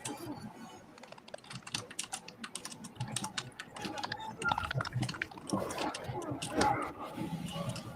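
Computer keyboard typing during PC gameplay, with rapid irregular key clicks running throughout under game sounds and a voice speaking.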